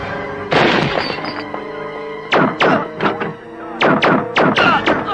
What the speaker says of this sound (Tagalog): Putok ng baril yun, ah!